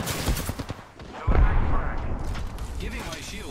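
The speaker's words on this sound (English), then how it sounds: "The enemies are shooting at me" Enemy gunfire in the video game Apex Legends: bursts of rapid shots and booming impacts, loud and close, running steadily through the clip with a dense, busy mix of game effects.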